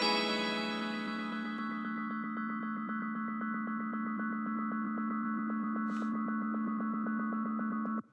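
A sustained, dense electronic drone from a delay with feedback over 100% running away, steady harmonic layers and a fast pulsing texture, holding loud and constant until it cuts off abruptly.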